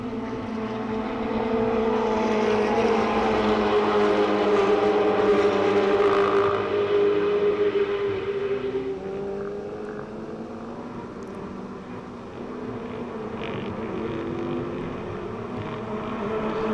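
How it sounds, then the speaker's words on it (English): Ferrari Challenge race car's Pirelli tires thrumming across a rumble strip at Circuit of the Americas, a loud sustained engine roar with a buzzing drone that eases after midway, no voices. "That's the rumble strip as the Pirelli tires rip across it."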